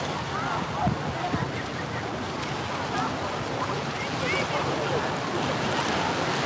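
Surf at My Khe beach in Da Nang in the evening rolls in as a steady, wide wash of breaking waves, blended with constant wind buffeting the microphone.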